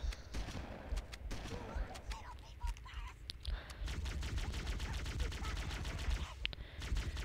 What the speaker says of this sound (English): I'm gonna use long range shotgun.